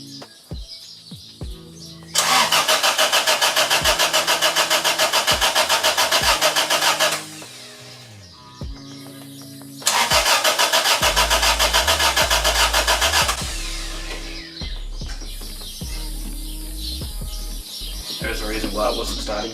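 A rebuilt Toyota 4A-GTE engine in an AE86 cranks on its starter without firing. Two long, loud, steady bursts of cranking are separated by quieter pauses with background noise. The engine never catches.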